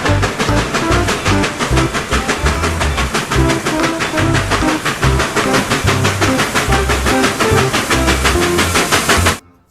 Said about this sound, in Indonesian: Di sini ada kereta api.